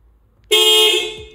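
A Haval H6 sounds its horn in find-car mode, one loud sustained honk that cuts in after a quiet moment, then fades slightly as it ends.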